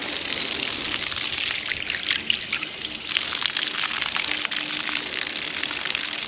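Water pours steadily from a frostline hydrant on a farm, a continuous close splashing trickle at an even level throughout.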